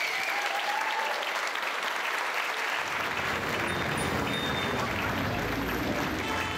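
An audience at a political rally for a Trinity-Spadina candidate in Toronto breaks into loud, sustained applause that swells and holds steady throughout, with cheering mixed in.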